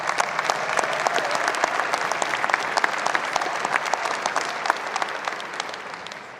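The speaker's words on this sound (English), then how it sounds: "Give yourselves a round of applause." A large crowd claps at an outdoor university spring commencement ceremony, sustained dense applause with scattered sharper claps, moderately distant and fading slightly toward the end.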